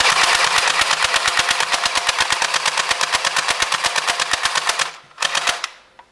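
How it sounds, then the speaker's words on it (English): A 200 FPS airsoft gun fires in a fast, steady stream of sharp, loud clicks for about five seconds, then stops briefly and lets off a short final burst, with no talking. "this is a 200 FPS gun, so let's see how it goes"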